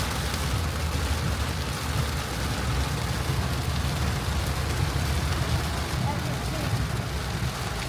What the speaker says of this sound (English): It's really rainy today.